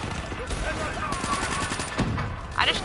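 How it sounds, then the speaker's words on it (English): A 3-round burst weapon fires in the Black Ops 3 campaign, producing rapid clustered gunshots over busy combat noise and scattered chatter, with a sharper burst near the end. "I get to use the 3-round burst weapon"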